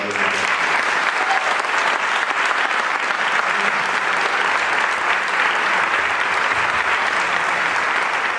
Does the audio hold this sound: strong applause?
yes